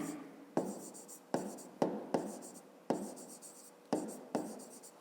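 A pen writing on paper while a fifth-grade math exercise is worked through, giving short quick scratchy strokes in irregular bursts, close and fairly quiet, with a voice speaking now and then.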